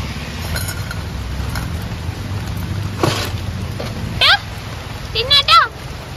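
Rain falls steadily while someone walks under an umbrella, a constant close hiss and patter with a few clinks and light knocks, and people speak over it.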